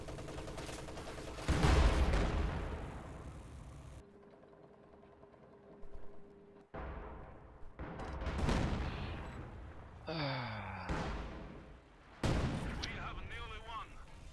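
Howitzer artillery in the Company of Heroes 2 strategy game: several heavy booms and blasts with rumbling decay, spread across the stretch, under and between a commentator's talk and game sound effects.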